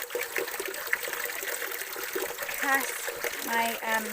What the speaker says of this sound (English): is fresh spring water that you can drink